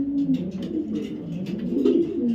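A blue checker racing pigeon, a male club bird, coos steadily and close up in low, rolling murmurs that continue without pause.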